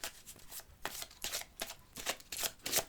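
Tarot cards handled and shuffled for a draw, a run of close, soft riffling swishes in uneven bursts, no one speaking.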